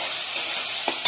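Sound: spice paste frying and being stirred in oil

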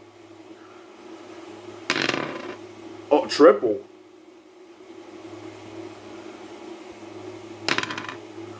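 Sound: dice being rolled in a tabletop army men game

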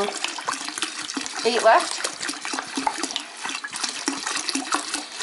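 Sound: water pouring into a carboy for home brewed beer

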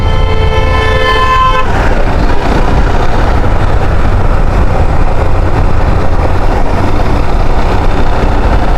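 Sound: motorbike riding

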